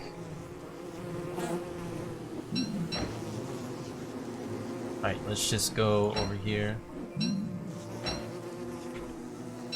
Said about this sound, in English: see how all the bees are roaming out?